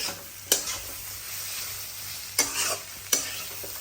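Egg frying with potato and onion in a pan, stirred: a soft continuous sizzle under a few sharp scraping strokes of the spoon against the pan, close and moderately quiet, no voices.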